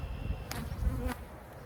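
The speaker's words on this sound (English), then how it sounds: "lots of bees" Honey bees drone in a soft, continuous buzz around pollen-laden hive frames during an open-hive inspection, with a couple of brief louder passes close by.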